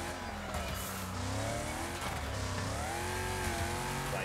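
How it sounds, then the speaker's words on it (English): Cars racing in the Wreckfest video game on Xbox Series X, with a continuous loud engine drone, gliding pitch changes and braking noise. "Listen to the brakes, bro."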